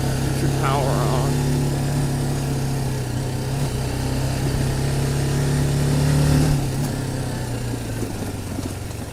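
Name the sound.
BMW G310GS motorcycle engine revving to 5,000-6,000 RPM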